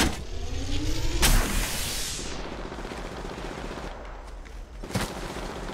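Gunfire in the mobile battle-royale shooter Apex Legends Mobile, a dense, loud run of shots with sharp cracks standing out over a continuous roar of game noise, with no talking.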